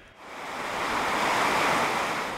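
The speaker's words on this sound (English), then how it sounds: "where the Thames is racing to shift all that water" The River Thames in Oxfordshire in winter flood, swollen water rushing loudly and steadily as a broad, continuous roar that swells in over the first moments and holds without speech.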